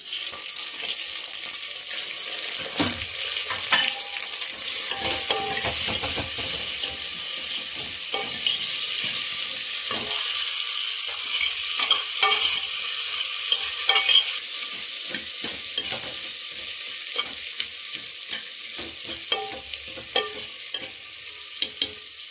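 Onions and green chillies frying in a pan with a continuous sizzling hiss, broken by intermittent scraping and clinking as a spoon stirs them, close and fairly loud.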